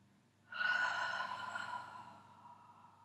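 One deep, audible breath is drawn during a Pilates exercise. It is close and clear, rising sharply and then slowly fading over about two seconds in an otherwise quiet room.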